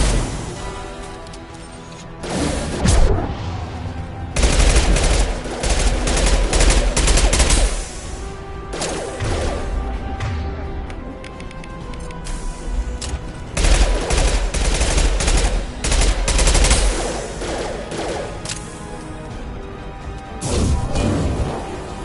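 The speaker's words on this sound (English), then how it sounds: "Firing an impact shot." Loud bursts of gunfire and impacts in Mass Effect 2 combat, several clustered volleys separated by brief quieter gaps.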